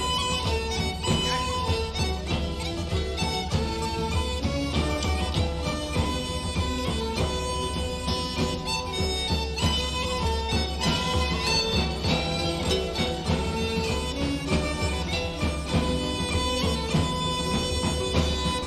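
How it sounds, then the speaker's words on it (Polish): The original version of Foggy Dew, an Irish patriotic song about the 1916 Easter Rising, plays as full, dense music at a steady level throughout, with no talking over it. "jest to generalnie Foggy Dew, czyli irlandzka pieśń patriotyczna"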